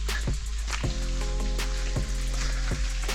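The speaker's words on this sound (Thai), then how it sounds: "ได้ยินเสียงน้ำ" Water trickles and drips at Saeng Chan waterfall, where the flow runs low before the hot season and drops into a rock hole. Irregular close splashes and drops sound over a steady low hum.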